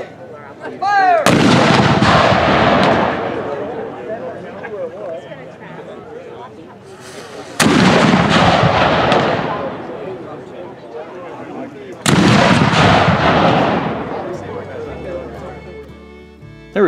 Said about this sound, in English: Enjoy this montage of cannon shooting.